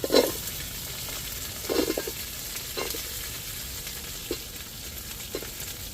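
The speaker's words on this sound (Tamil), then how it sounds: "இப்போ சின்ன வெங்காயத்தை சேர்த்துக்கிடுவோம்" Curry leaves and small shallots fry in hot oil in a pan for Tirunelveli sodhi kuzhambu, a continuous soft sizzle under a few separate bursts of spatula stirring and scraping, close by with no voices.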